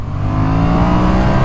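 A Yamaha MT-07 twin-cylinder motorcycle engine pulling hard in second gear after a four-gear downshift, a loud, steady, close rising drone with no talk over it.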